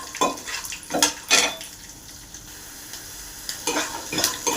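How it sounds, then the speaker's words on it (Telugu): Peanuts and chana dal frying in oil for poha, a steady sizzle broken by repeated sharp scrapes of a spatula stirring the pan. "తర్వాత పల్లీలు, దాని తర్వాత కొద్దిగా పచ్చిశనగపప్పు వేసుకొని ఫ్రై చేసుకోవాలి."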